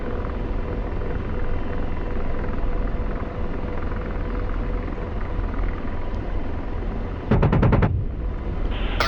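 In the DCS flight simulator, an AH-64 helicopter's rotors and engine drone continuously until the gun fires one short, rapid burst near the end, loud and close over the steady hum.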